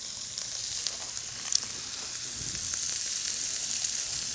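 Sliced garlic sizzles with sweet peppers and onions in a paella pan for a Paella Valencia, a steady close hiss of frying with a few small pops, no talk.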